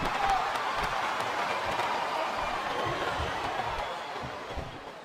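Crowd of wrestling fans roars and cheers through a WWE SmackDown vs Raw 2007 match between The Rock and Triple H, a dense, steady wash of noise that fades slightly toward the end.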